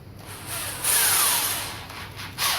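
A power drill whirs in short bursts, rising and falling as it bites, close by with no talking.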